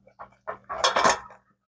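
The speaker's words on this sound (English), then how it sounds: "so I'm gonna go give it a stir." A spoon stirring meatballs and tomato sauce in a pot of a Hungarian military ration meal, a few short scrapes and clinks building to a brief rattling burst, close and alone.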